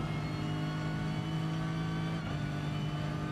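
A race car in Gran Turismo Sport drives at Monza under full throttle, giving a steady, loud, droning engine tone that holds throughout with no talking.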